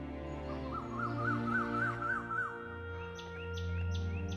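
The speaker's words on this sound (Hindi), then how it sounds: "ये कोयल की कूकू से मेरा दिमाग खराब है।" An Asian koel calls in a series of rising, repeated notes, fairly clear over a low steady hum, with a few sharper, higher calls toward the end.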